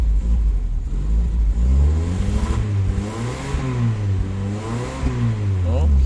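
A carbureted motorcycle, converted from electronic fuel injection and fitted with an automatic transmission, revs up and down in rising and falling surges during a test ride, loud and close.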